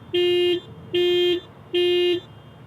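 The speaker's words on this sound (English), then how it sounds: "So it basically beeps the horn, flashes the lights." A 2018 Toyota Yaris LE horn sounding from the panic button, three loud, even, half-second honks spaced evenly apart, close by and alone.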